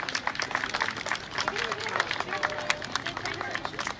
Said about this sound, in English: Let's have a huge round of applause for Shivansh.